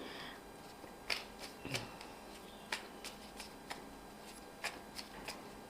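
Tarot cards being shuffled and drawn make soft, scattered flicks and snaps, each one quiet and short, with gaps of low room hush between them.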